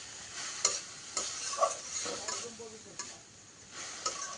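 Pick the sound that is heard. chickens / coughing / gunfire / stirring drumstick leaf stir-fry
stirring drumstick leaf stir-fry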